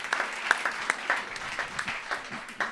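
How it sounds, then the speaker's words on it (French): Audience applause at a keynote event, a steady patter of many hands clapping for about three seconds, fairly distant and even, with no voices over it. "Merci Mickaël, on peut l'applaudir."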